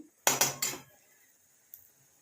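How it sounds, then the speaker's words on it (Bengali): A metal spatula knocks sharply on a cooking pan three times in quick succession to shake off salt while kalo jeere bata is being made. A faint clink follows a moment later in an otherwise quiet kitchen. "এই দেখুন খুন্তিটা নুন লেগেছিল, ঝেড়ে নেবেন।"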